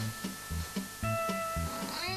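A cat meows insistently at night, repeated short cries in a steady rhythm, close and clear with no talk.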